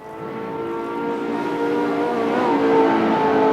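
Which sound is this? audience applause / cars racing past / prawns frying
cars racing past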